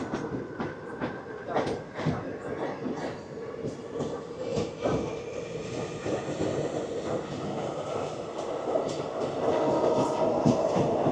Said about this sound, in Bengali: আর এই আমাদের ট্রেন বেরিয়ে যাচ্ছে নিউ ফারাক্কা জাংশন থেকে